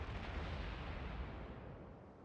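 Battleship Iowa's heavy naval guns in World of Warships, a deep rolling boom of artillery fire that fills the clip and slowly decays, heard alone.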